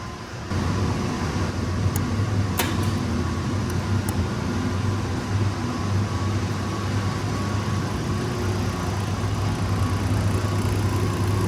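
Boiler kicking on to full fire, a steady loud roar with a constant hum, preceded by a quieter moment and a few faint clicks early on.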